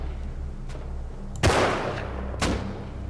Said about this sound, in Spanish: Escucho los tiros